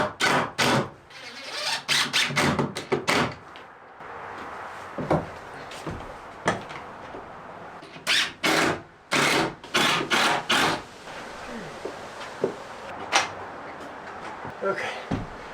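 A heavy homemade wooden door, built for a truck-camper studio conversion, gets lifted and shifted, giving a run of loud close knocks, clunks and scraping rubs in irregular bursts with quieter handling noise between them.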